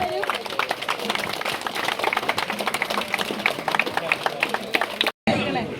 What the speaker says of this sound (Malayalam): അവർക്കും വേണ്ടിയിട്ട് നല്ലൊരു കയ്യടി കൊടുക്കും.